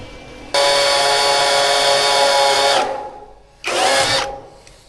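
A power drill whines loudly and close while trying to drive a screw into wood for a new birdhouse, with one long burst of a few seconds, a short pause, then a second briefer burst that winds down.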